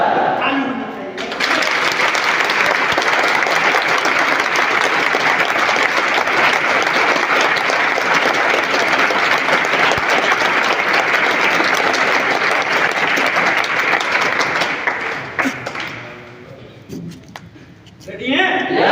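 Sustained loud audience applause in a coaching class, a dense continuous wall of clapping lasting many seconds before trailing off near the end, with voices briefly audible at the edges.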